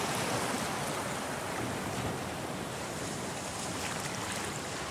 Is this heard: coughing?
no